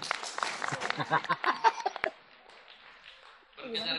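Audience applause at a lecture on organisational governance, a burst of scattered clapping mixed with some laughter that fades into quiet, then a voice resumes.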